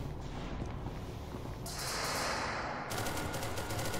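Video game gunfire comes as dense, crackling automatic bursts over a busy, noisy background, with a rapid rattling volley near the end. The overall level stays fairly quiet.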